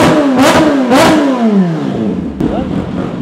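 A supercharged Kawasaki ZH2 motorcycle fitted with an SC Carbon exhaust revs hard to high RPM, with two loud rising blips that sweep up and fall away, then settle into a rough idle close by.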